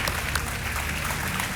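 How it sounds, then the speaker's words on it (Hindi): A studio audience on a quiz show set applauds to welcome a contestant, a dense, steady wash of clapping that continues evenly throughout. "तालियों के साथ इनका स्वागत।"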